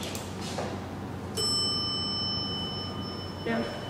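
A hydraulic elevator's up-direction bell chimes once, a clear sustained ding that rings out and slowly decays, followed by a softer second tone near the end, in a quiet apartment building hallway.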